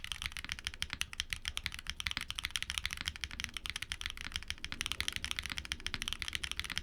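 Fast, steady typing on a mechanical keyboard fitted with TTC switches, a dense run of crisp key clacks recorded close up with no talking.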